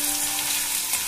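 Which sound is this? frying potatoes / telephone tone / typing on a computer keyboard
frying potatoes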